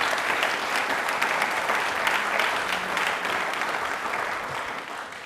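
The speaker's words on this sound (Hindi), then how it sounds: "एक बार तालियां जोरदार हो जाएं प्लीज वापस से" Loud, steady applause from a live studio audience at a Rajasthani general-knowledge quiz show, broad clapping sustained for several seconds with no speech over it.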